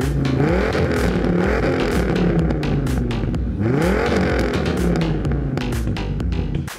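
A last-generation Dodge Challenger engine revs loud and close, its pitch sweeping up and falling back in repeated throttle blips over a constant deep rumble, with no talking.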